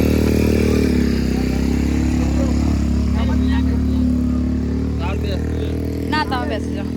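A motorcycle engine drones steadily and close by during a ride, its low rumble constant throughout, with people talking over it.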